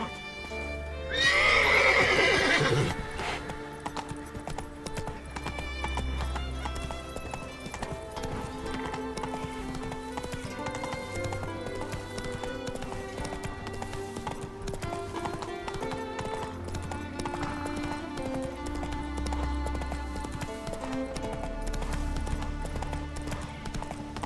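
A horse in The Witcher 3 gallops with steady clip-clopping hooves and lets out a loud whinny near the start, the hoofbeats continuing under music throughout.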